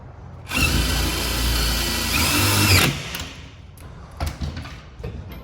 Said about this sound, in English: On these 3/4 inch brackets, we use 5/16 hex head screws to get them nice and secure.